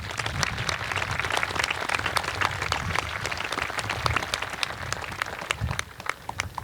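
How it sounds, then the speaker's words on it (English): Parents receive applause from a high school graduation crowd, many distinct hand claps spread across an outdoor-sounding audience, fairly distant and moderately quiet, tapering slightly near the end. "So please just give them a round of applause right now"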